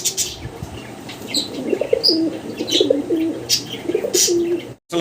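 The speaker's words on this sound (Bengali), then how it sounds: "দেশি গোল্লা কবুতর দেখতেছি" Desi golla pigeons coo in soft, repeated throaty calls close by, with a few faint chirps overhead and no talking.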